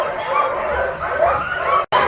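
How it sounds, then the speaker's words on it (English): Iditarod sled dogs harnessed to a summer tour sled yip, whine and bark eagerly in a chorus of overlapping high cries, close by and continuous before a brief cut. "Dogs are all getting excited to run."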